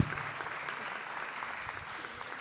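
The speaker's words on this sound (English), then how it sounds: "let's give a round of applause to the Japanese participants" Audience at an international youth conference on biodiversity in Yokohama gives a round of applause: a dense, even wash of many hands clapping, steady and sustained for the whole stretch, heard from within the hall.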